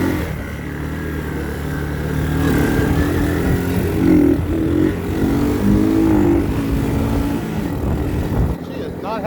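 A 1981 Honda 185s motorcycle engine runs steadily while being ridden, a continuous close drone with slight rises in pitch, mixed with wind buffeting and occasional speech over it.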